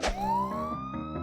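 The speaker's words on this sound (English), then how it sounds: "Are those real police siren sounds?" A police siren wails loud and close, rising in a smooth upward sweep after an initial burst, sustained and continuous.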